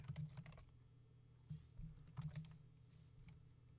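Faint, quiet typing on a computer keyboard, with short bursts of light key clicks separated by pauses, close but low in level, with no talking.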